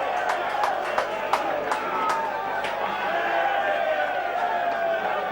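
Crowd noise at a Whitehaven v Workington rugby league match: a steady, loud roar of spectators with scattered sharper shouts and whistles, continuous across the whole stretch.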